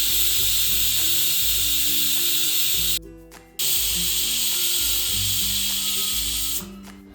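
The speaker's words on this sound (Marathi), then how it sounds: "कुकरच्या 5 शिट्ट्या झाल्या आहे" A pressure cooker of mutton rassa on a medium gas flame lets off a loud, steady hiss of escaping steam, broken by a short pause midway before resuming strongly; no one speaks.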